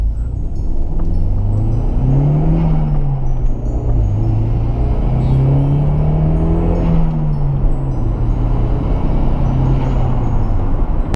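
A stock Nissan S13 200SX turbo engine drones loudly from inside the car while driving in the rain, its pitch rising and falling in smooth waves with steady road rumble underneath and no talking.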